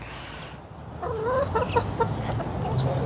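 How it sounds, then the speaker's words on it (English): A hen that lays blue eggs clucks close by in a short run of soft, rising calls over low background noise. "You're a good chickie. You lay the best blue eggs."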